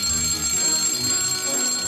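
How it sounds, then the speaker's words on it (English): An alarm clock rings loudly and continuously, a bright steady electronic bell tone filling the short moment with no voices over it. "you must switch on more alarms"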